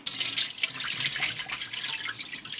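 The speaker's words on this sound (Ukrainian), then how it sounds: "Другий раз водичку зливаємо." Rinse water from soaked dried peas is poured off a second time into a kitchen sink, a continuous close splashing and gurgling stream throughout.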